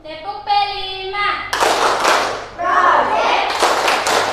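Classroom children chant together, then break into bursts of rhythmic group clapping for the Tepuk P5 ice-breaker, with sharp, loud claps in patterned sets alternating with their voices.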